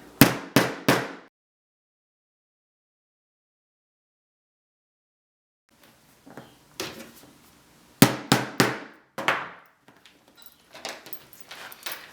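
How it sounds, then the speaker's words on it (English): A hammer hole punch is struck through leather in sharp, close whacks: three quick strikes, a long silence, then a few lighter taps and another run of three or four firm blows. "take your hammer hole punch,"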